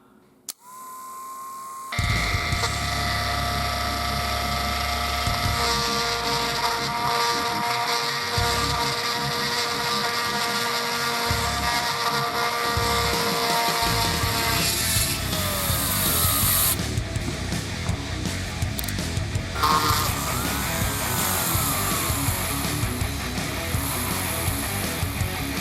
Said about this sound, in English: let's get to drilling.